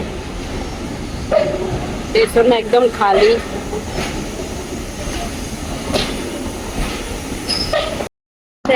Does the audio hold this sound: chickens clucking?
no